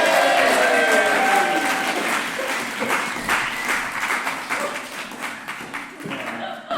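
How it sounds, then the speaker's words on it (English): Live audience at a VAULT Festival 2020 podcast show applauds a co-host, a dense roar of clapping that fills the room and slowly thins toward the end. "a round of applause for my partner in crime and podcast co-host."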